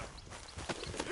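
Horse hooves clip-clop in a quick trotting rhythm in the video game Red Dead Redemption 2, a short burst of soft, moderately close hoof thuds.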